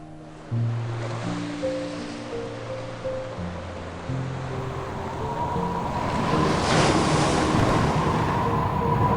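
Animated story sound effect of rough winds and massive ocean waves crashing around a ship at sea, a broad rushing surge that swells louder toward the end beneath soft background music.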